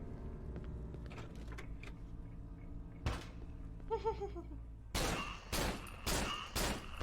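A handful of sharp gunshots from the horror game Cry of Fear ring out near and loud, about four reports in quick succession near the end, after a quieter stretch of ambient game sounds.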